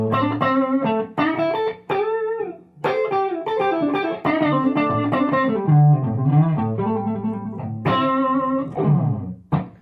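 Clean-channel electric guitar through a Fender Bassman amp, played in bluesy phrases of chords and single notes with ringing sustain, close and steady with brief gaps between phrases.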